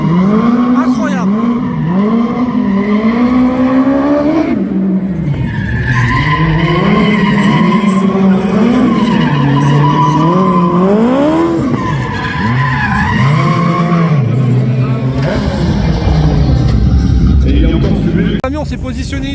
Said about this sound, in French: On s'est positionné ici pour voir le drift.